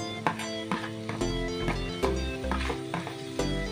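Onion and green chilli pieces frying in oil in a pan, a steady close sizzle broken by repeated stirring scrapes and taps of a spoon.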